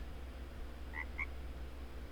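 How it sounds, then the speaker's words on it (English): A frog croaks in an Unreal Engine game scene, giving two short, quiet calls about a quarter second apart over a steady low ambient hum. "We can hear our frog friend"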